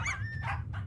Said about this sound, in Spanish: ¡Hay perritos!